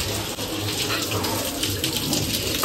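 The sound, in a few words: water running from a tap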